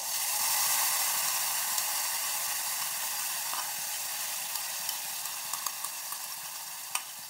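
A ground spice paste sautés in a pan with a soft, even hiss and sizzle, a few faint stirring clicks near the end, and no one talking.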